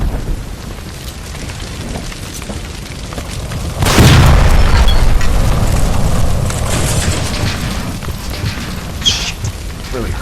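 Gas line blowing up by a stove in L.A. Noire, a sudden loud boom that swells into a long crackling, roaring rumble of fire and debris after a stretch of tense background noise, with voices nearby.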